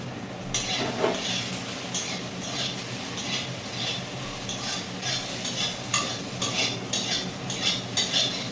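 Diced potatoes and soaked soybeans fry in oil with salt and turmeric, a soft sizzle broken by repeated scraping and clinking of a spatula against the pan.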